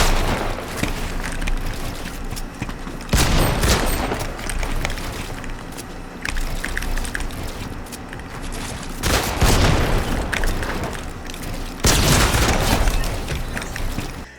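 Pump shotgun shots in the Fortnite video game, with several loud, sharp blasts spaced a few seconds apart over constant background game noise and light clatter.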